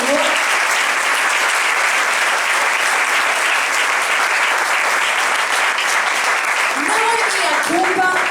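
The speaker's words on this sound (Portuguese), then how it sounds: "Dê uma salva de palmas ao Senhor." Church congregation clapping for the Lord, dense steady applause filling the whole stretch at close, loud level, with a few voices calling out near the end.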